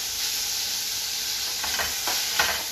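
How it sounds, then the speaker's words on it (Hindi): Spinach leaves sizzle steadily in a hot pan, with a few scraping stirs near the end; close and moderately quiet, no talking. "ये जो हमने काट ली थी पालक, वो डालेंगे और इसको हम मिला लेंगे।"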